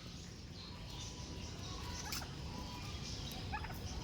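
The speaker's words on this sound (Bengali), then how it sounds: "আর টার্কি মুরগি।" A turkey in a zoo-like bird enclosure gives faint, distant gobbles, two brief rattling bursts over a steady low background hum.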